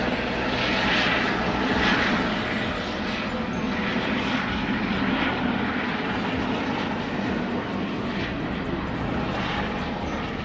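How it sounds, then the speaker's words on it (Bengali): An aircraft passes overhead near a residential spot in Bangalore, a steady loud engine roar sustained throughout without pause, no talk. "এই যে আমি বলেছিলাম হেলিকপ্টার ওঠে আমাদের এখান থেকে"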